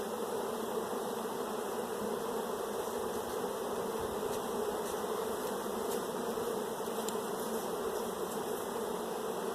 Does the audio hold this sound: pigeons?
no